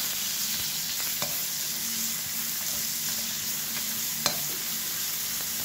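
Garlic and onions sizzle steadily in a pan for pancit canton guisado, a constant close frying hiss broken by occasional light scrapes and one sharp tap of a utensil against the pan.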